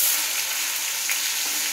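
Onion paste sizzling in hot oil with cumin and dried chillies, a steady close hiss of frying with no talking.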